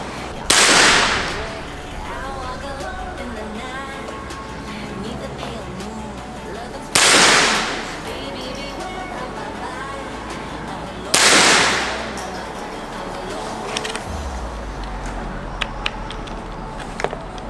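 Three loud, sharp gunshots from test firing at a 25-metre range, each a single crack with a short decay, spaced several seconds apart over quiet background.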